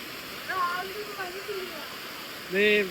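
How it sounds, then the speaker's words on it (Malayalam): A waterfall pours into a natural pool known as an infinity pool in misty hill country, giving a steady, close rushing wash of water. Voices call out over it at moments. "അതിമനോഹരമായ വെള്ളച്ചാട്ടം, ഇൻഫിനിറ്റി പൂൾ എന്നാണ് ഇതിൽ അറിയപ്പെടുന്നത്"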